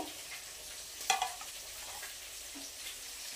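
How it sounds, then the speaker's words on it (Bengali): Fish fries in hot oil with a quiet, steady hiss and a few brief crackles, close but faint, with no voices. "আর এইদিকে মাছ ভাজা করছি"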